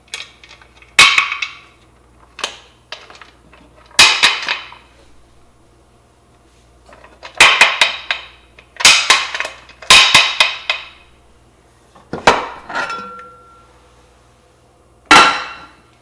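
Metal pressure canner lid being twisted loose and lifted off after canning refried beans, giving a series of sharp metallic clanks and clicks spread irregularly over several seconds, close and fairly loud with quiet gaps between.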